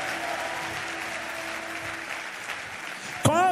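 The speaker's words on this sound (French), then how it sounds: "Est-ce que tu es en train d'acclamer?" A church congregation applauds steadily in a sustained, even wash of clapping, with a voice breaking in briefly at the end.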